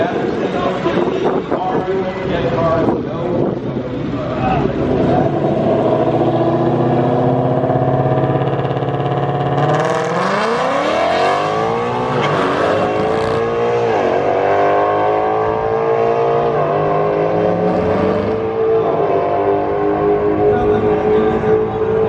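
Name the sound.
cars racing, including a 900HP Shelby GT500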